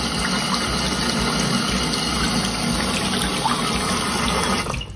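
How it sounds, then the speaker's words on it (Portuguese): Water gushes steadily from an opened bathroom tap into a glass basin, a loud, continuous splashing rush that cuts off abruptly at the end. "Ó, eu vou abrir a torneira."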